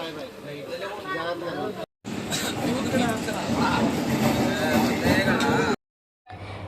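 A passenger train rumbles along with a steady rolling clatter inside the carriage, while people talk over it; the sound cuts out briefly twice.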